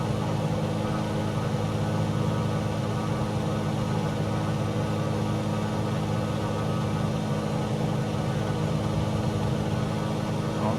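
A propeller aircraft engine in a flight simulator, held at a reduced 2100 RPM, gives a steady, even drone with a constant low hum that never changes pitch.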